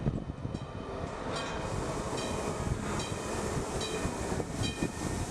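Train at a station in an audio drama scene, a continuous heavy rolling rumble with faint rhythmic clatter, steady and fairly close, without talk.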